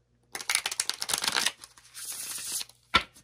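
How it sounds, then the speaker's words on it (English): Tarot cards shuffled and pounded on a table: a loud, close run of riffling slaps and thumps for about two seconds, then a softer shuffle and one sharp knock near the end, with no voices. "me pounding on the table with the cards as I shuffle is loud"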